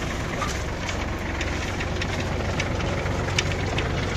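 A Kubota GL21 Japanese mini tractor idles steadily with a low, even engine drone and faint mechanical ticking, running alone without talk.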